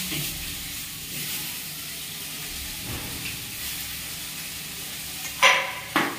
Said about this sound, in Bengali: তারপর ঢ্যাঁড়সগুলো ভেজে নেব